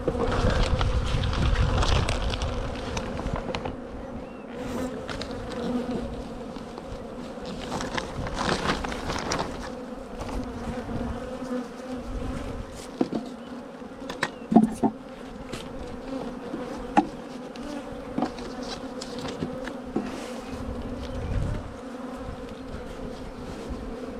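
Honey bees buzz densely around an open beehive during a swarm-prevention frame check, a close steady drone with occasional individual bees whizzing past the microphone and faint knocks; no talk.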